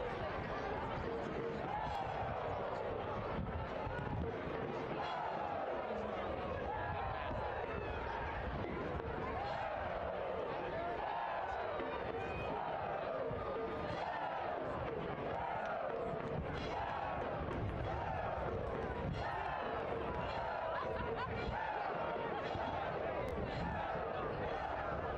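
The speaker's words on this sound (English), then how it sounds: "Chanting and the drumming and the cheering has not ceased here for 80 minutes in Breese-Stevens Field" Stadium crowd at Breese-Stevens Field during a Forward Madison FC soccer match, steady chanting and drumming with cheering that rolls on continuously, heard from a distance under a commentator's voice.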